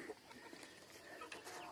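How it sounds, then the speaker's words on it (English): Cornish Cross hens clucking inside a chicken house, with several soft, overlapping clucks and murmurs at moderate distance, continuous and fairly quiet, with no talking. "Only Cornish cross hens in here."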